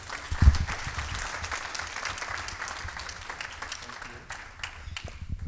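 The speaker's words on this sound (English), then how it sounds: "let's give him a round of applause" Applause at a nonprofit awards ceremony as a recipient is called to the stage, an audience clapping steadily at moderate volume before thinning out toward the end, with a few louder individual claps.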